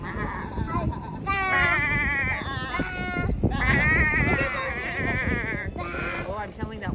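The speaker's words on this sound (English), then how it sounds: "Do you like those sheep? The sheep are my favorite." Sheep and a lamb on a farm let out several wavering bleats in close succession, loud and near, while people talk over and between the calls.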